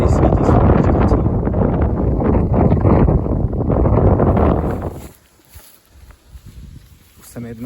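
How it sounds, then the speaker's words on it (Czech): Strong wind buffets the microphone outdoors on a sunny day, a loud, rough roar for about five seconds that then drops away to a quieter hiss with faint rustling. "docela dneska fouká"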